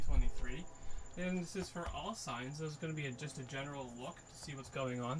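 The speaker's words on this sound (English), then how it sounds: "If you hear any crickets in the background" Crickets chirp in a continuous, faint, high-pitched drone far in the background, steady beneath a person talking throughout.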